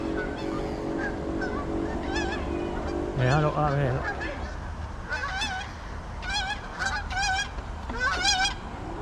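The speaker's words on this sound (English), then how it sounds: "There's a goose there. You can see the goose," Geese honk by a river, several sharp nasal calls in bursts, some near and some farther off, while a person talks briefly over them.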